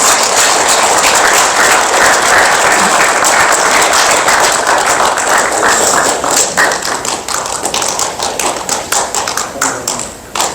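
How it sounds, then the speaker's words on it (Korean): Loud, dense audience applause at an award ceremony, many hands clapping close together and sustained, then thinning into scattered claps toward the end. "양경환 교수님께 다시 한번 뜨거운 박수 부탁드립니다."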